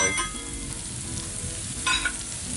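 Short grain Valencia rice being stirred into seafood paella in a 14-inch cast iron Lodge pan, a close, continuous sizzle and crackle with a scraping stir swelling briefly partway through.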